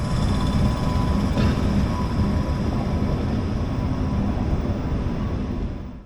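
A DB Stadler double-decker intercity train coming in from Chemnitz rolls into the station with a loud, continuous rumbling roar, and the sound fades sharply at the end.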